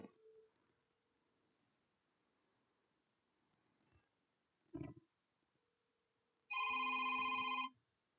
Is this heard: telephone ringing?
yes